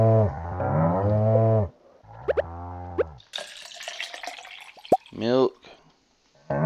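Cartoonish cow moos from the Stardew Valley farming game sound in short bursts alongside squirting, dripping milking effects, with a player talking between them.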